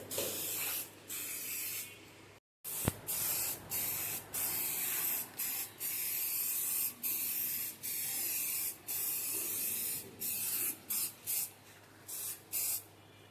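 Polish sprayed from a trigger bottle onto the body of a Toyota Hiace van during a car wash, many close, loud hissing squirts in a steady, uneven rhythm with brief gaps, continuing for the whole stretch.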